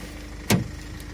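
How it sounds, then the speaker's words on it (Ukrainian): A steady low engine hum from an idling Nissan NV400 van, broken once by a short, sharp knock or click partway through. "Чисто добре працює мотор."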